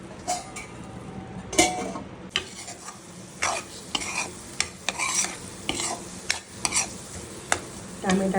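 Tomatoes with turmeric, red chili powder and salt cooking in a pan for dal tadka: a soft, steady sizzle under repeated scraping and clinking strokes of a spoon stirring against the metal, close by and without speech.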